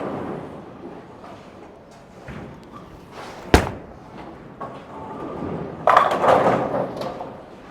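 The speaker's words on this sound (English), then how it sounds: "this is the first shot here with the Hustle Camo" A Hustle Camo bowling ball rolls down a freshly oiled lane with a low steady rumble, then a sharp crack of impact followed by a clattering burst of pins scattering, fairly close and loud, with no talking over it.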